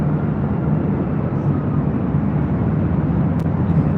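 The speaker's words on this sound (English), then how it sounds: "Got that LAN 787-9 Dreamliner heading to Santiago, now rolling down 25 right" A LAN Boeing 787-9 Dreamliner rolls down runway 25 Right at LAX, its engines giving a steady, broad roar that holds constant at a distance with no talk over it.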